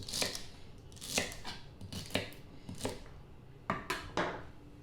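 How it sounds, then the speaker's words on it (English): A knife chopping celery on a cutting board, crisp irregular chops in quick bursts with short pauses between them, close by. "after we're done chopping this celery"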